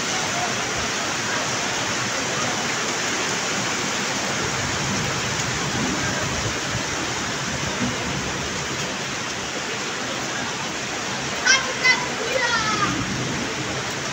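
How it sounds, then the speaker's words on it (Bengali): Sudden rain, heard from a veranda indoors, pours down as a loud, steady, unbroken hiss for the whole stretch. Brief faint sounds rise near the end. "যাক, আজকে সেই বৃষ্টিটা হলো।"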